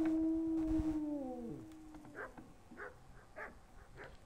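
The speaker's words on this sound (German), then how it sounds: "Diese scheiß Hunde nerven." Dogs in the medieval video game Kingdom Come Deliverance give a string of short, fairly distant barks and yips, following a fading tonal sound, with no talk.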